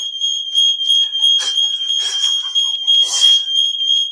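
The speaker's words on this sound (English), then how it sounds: "Fucking smoke alarms." Smoke alarms shrieking inside an old prison, a piercing continuous high electronic tone with a second harmonic layer, loud and unbroken, with bursts of other noise breaking through in between.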